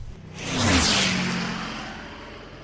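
A passenger jet climbing out after takeoff, heard as a rising broadband whoosh that swells and then slowly eases into a steady roar, with a low engine drone underneath.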